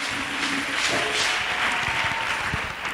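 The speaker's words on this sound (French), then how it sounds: "Acclamons pour Jésus-Christ" An audience at a church testimony gathering applauds and cheers for Jesus Christ, a dense, steady wash of clapping that fills the space throughout.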